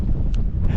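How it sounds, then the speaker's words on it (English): Gale force wind buffeting the microphone on a misty summit in the Langdales, Lake District, a loud continuous low roar with brief gusty bursts. "It's hard to film because it's really windy"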